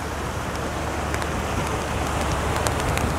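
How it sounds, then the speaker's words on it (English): Steady rain falls on a marina dock, a dense, even patter with scattered brighter drop hits, close and continuous with no talking. "And the rain cometh."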